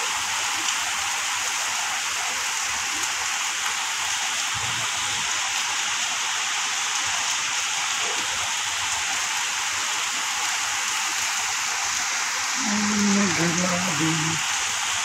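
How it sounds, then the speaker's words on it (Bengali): Heavy downpour in Dhaka, a steady dense hiss of rain throughout, with a few faint voices murmuring near the end. "ঢাকায় এই মুহূর্তে প্রচুর বৃষ্টি হচ্ছে।"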